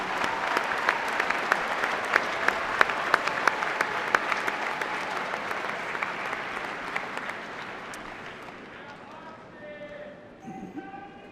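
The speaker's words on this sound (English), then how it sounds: "Another round of applause for the Austin E." A large audience at the UW-Green Bay spring 2018 commencement gives a sustained round of clapping for the business school, with crisp individual claps standing out, then gradually fades to a trickle as a voice begins.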